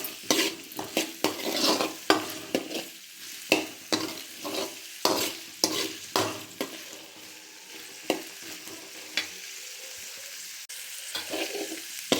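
Cauliflower frying in a pan while being stirred, a steady sizzle broken by a rapid run of scraping utensil strokes against the pan, close and clear with no talking.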